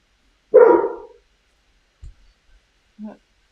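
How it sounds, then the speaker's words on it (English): A neighbor's dog barks once, close and fairly loud, followed after a pause by two short, faint yips from inside a garage. "My neighbor dog hears me here in the garage."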